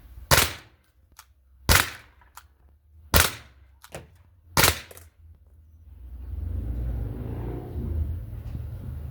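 A T4E Umarex Glock 17 Gen5 pistol fires four sharp, separate shots outdoors, each loud crack spaced about a second and a half apart, followed by a low rumbling background.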